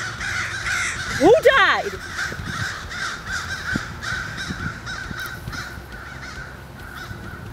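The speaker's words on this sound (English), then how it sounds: "Birds." Crows caw a few times near the start, a short burst of harsh calls, then fade behind a steady murmur of crowd noise while a person speaks briefly.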